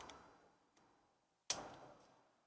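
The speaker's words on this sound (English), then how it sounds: "I'm using my torque wrench, and I'm just going to tighten it up to 101 foot-pound" Torque wrench tightening a brake bolt to 101 foot-pounds, a faint tick followed by one sharp metallic click that rings out briefly, near and isolated, with no talking.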